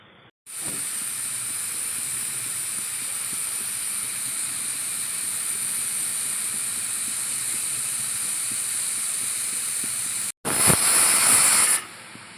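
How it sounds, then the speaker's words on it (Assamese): A pot of washed dal with a little salt boils on the stove, a steady loud steam hiss running nearly unbroken, briefly stopping and then returning in a sharper, brighter burst near the end. "এতিয়া মই দাইলখিনি বইল কৰিম।"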